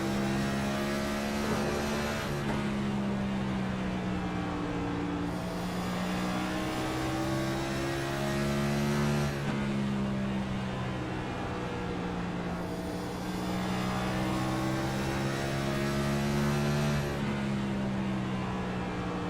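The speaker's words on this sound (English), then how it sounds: "Listen to the motor." A race car engine at Bristol in a racing video game, loud and continuous, rising and falling in pitch in repeated sweeps as the car laps, with no talk over it.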